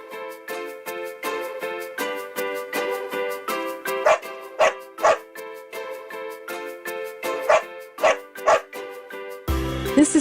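A dog yips and barks in a quick rhythmic string over a tonal musical backing, with several sharper louder barks in the middle and a burst of noise at the end.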